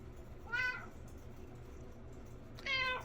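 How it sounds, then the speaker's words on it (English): A cat meows for food twice, each a short rising-falling call separated by a couple of seconds of quiet, fairly close and clear over a low background hum. "I'm gonna cut in Shepherd meowing at me for feud"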